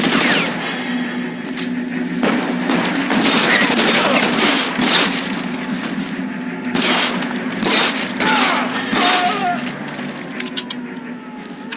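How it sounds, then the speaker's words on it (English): Gunfire erupts in L.A. Noire as rapid bursts of shots ring out loud and close, several clustered volleys over about twelve seconds against a steady background hum, with faint voices mixed in. "I've been involved in a shooting."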